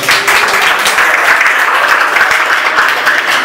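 A church-hall crowd at a Catholic theology-of-the-body course applauds visiting members from other communities, steady dense clapping filling the space from start to finish with no pauses.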